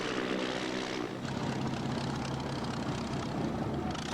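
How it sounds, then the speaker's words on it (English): A propeller airplane flies overhead at Universal Studios in Florida, heard as a steady, loud engine drone that fills the whole stretch with no talking. "A plane? Is that an actual plane, or is it on, like, a track?"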